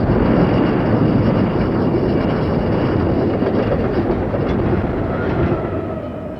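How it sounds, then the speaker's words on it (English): A runaway train rushing past a level crossing in a film scene, a loud continuous rolling roar that holds steady and eases slightly at the end, with no talk. "a train goes through, but it's a runaway train"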